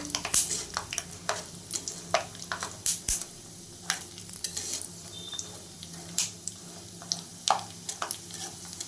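Peanuts frying in a pan for masala chira bhaja, stirred with a spoon: a steady soft sizzle broken by repeated scraping clicks and clatters against the pan, close and fairly quiet.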